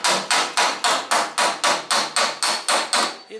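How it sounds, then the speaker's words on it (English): A hammer strikes a dolly held behind a rusty front guard panel on a Holden HK/HT/HG, giving about twelve evenly spaced, bright ringing tings with short decays, close and loud, no talk. "we got the hammer, the dolly behind it, and you can hear the ting from the dolly"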